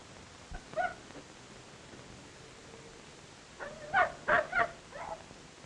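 A dog whimpers and gives short yipping barks, first a brief cry and then a cluster of three or four sharper yelps near the end, fairly close over a quiet background.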